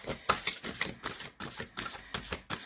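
Tarot cards being shuffled by hand in quick, rhythmic riffling bursts, a steady run of papery flutters and taps close to the mic with no talking.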